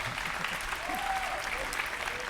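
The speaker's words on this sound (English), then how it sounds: "Let's give him a round of applause." Steady applause from an audience at a college sports signing ceremony, filling the whole stretch evenly at moderate loudness, with a faint voice briefly audible beneath the clapping.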